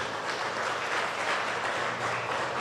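Congregation clapping for the Lord in a Spanish-language church service, a dense, steady wash of applause at moderate level with no talk over it.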